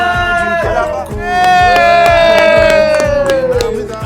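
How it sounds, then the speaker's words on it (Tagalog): Wedding guests in a church cheer and clap loudly together, a dense, lively crowd sound with a sustained high tone running over it throughout. "Palakpak tayo"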